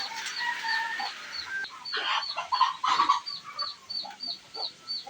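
Ducks quack and honk in a noisy flock nearby, repeated calls overlapping in short bursts with no talking.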